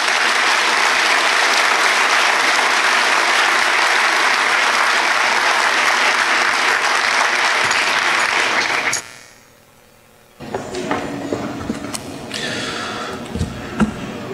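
An audience at a community salute-to-service ceremony for new military enlistees applauds loudly and steadily for about nine seconds, stops abruptly into near silence, then a quieter crowd murmur and some clapping return.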